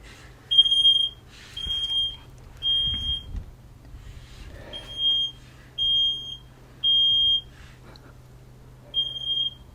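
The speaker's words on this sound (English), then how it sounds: "Smoke alarm, Danny's cooking." Smoke alarm on a narrowboat, set off by cooking, sounding repeated shrill beeps in uneven bursts over about ten seconds, fairly close and alone with no talk.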